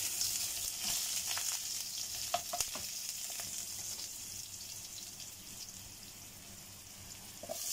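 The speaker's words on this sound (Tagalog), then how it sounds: "Anuhin na natin ang ating luya. Igisa natin para masaya." Ginger sautés in hot oil in a pan, a steady bright sizzle with occasional stirring clinks and scrapes, close and continuous with no talking.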